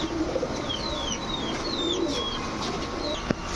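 A female pigeon coos softly among other birds at a pigeon seller's stall, with faint chirps and a steady background hum, and one sharp knock near the end.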